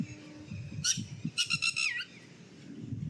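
Outdoor birds give a short run of sharp, high whistling chirps, a few quick notes bunched in the middle, heard over low indoor rumble.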